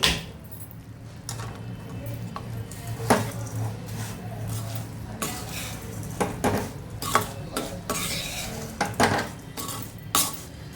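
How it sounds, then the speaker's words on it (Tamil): Grated sweet potato is stirred into a hot burfi mixture in a pan, producing frequent metallic scrapes and knocks of a spoon against the vessel, clustered irregularly over a low background hum, with no voices. "ரெடி பண்ணி வச்சுருக்கிற இந்த சக்கரவள்ளி கிழங்கு போட்டு போட்டு உடனே கொஞ்சம் மிக்ஸ் பண்ணிக்கிங்க"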